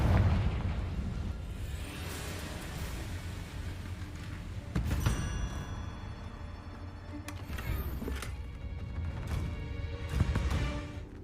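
Confringo fire spells go off in Hogwarts Legacy, with several heavy booming explosions spread across a continuous rumbling battle din, loud and layered, with no voices over them.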